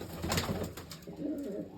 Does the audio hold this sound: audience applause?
no